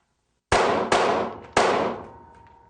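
Three loud gunshots from a handgun fired at targets from a lying-down ready position, sharp cracks with ringing decay, the second quickly after the first and the third a beat later, fading out.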